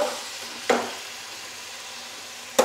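Onions and biryani spices frying in a pan, a soft steady sizzle broken by two sharp scraping stir strokes.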